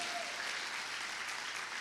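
Audience applause fills a church seminar hall, a steady dense wash of clapping from a crowd that carries unbroken through the short moment.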